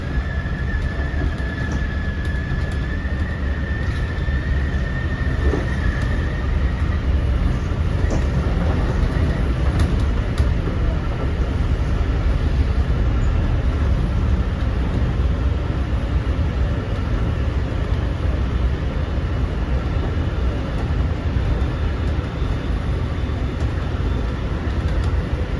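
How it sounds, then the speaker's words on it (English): An LIRR M3 electric train pulls out of Wyandanch station with a steady, loud rumble and wheel noise that continues throughout, and a faint whine rises briefly early on. "We'll find out when we record this M3 departing Wyandanch as well."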